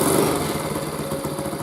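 A Honda CT70 Mini Trail motorcycle engine, started from cold, idles steadily with an even, low putter and slight rhythmic pulsing, close by and alone.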